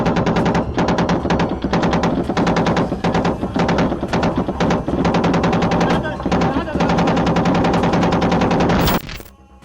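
Gunfire in a street shootout involving the CDN cartel crackles in long, rapid automatic bursts, loud and dense, with shots overlapping almost continuously before cutting off abruptly near the end.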